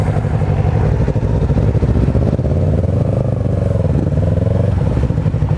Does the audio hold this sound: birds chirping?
no